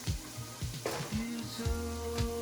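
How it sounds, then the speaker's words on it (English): Onions sizzling steadily in a hot pan, a constant frying hiss with light stirring clinks and low background hum. "you want to hear that nice sizzle"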